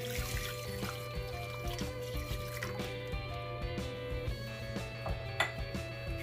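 Marinade is poured over cut-up boneless chicken thighs in a container, a soft continuous liquid pour and trickle with light drips, close and fairly quiet against a humming background.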